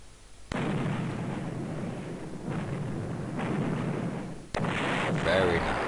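A battleship shelling a target in the strategy video game Panzer General, heavy rumbling artillery blasts in a continuous booming roar with a sharp new burst near the end.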